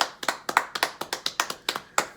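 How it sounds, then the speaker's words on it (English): Eight or nine distinct, evenly spaced hand claps ring out close and alone with no talk, suggesting a single person or small group clapping rather than a full audience. "Let's just get a round of applause real quick."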